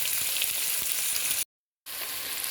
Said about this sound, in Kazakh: болгарский перецті әдемілеп қуырып, өлтіріп алдық